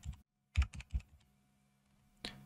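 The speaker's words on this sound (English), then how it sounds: "Then I'm going to press Control F on the keyboard." A few keystrokes on a computer keyboard while entering a port number in the Lidarr music manager setup: three or four quick clicks, then a pause and one more click, close and clear.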